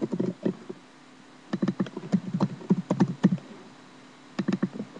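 Bursts of rapid keyboard typing, close and crisp clicks in quick clusters separated by short pauses of quiet.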